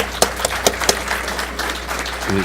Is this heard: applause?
yes